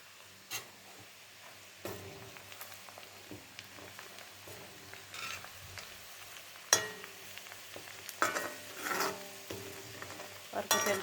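Meat for achar, about 3 kg, fries in oil, a soft steady sizzle broken by intermittent scraping and clinking stirs that grow busier toward the end, with no voices.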